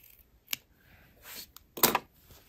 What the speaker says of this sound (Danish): jeg klipper lige sømmerummet skråt af her i hjørnet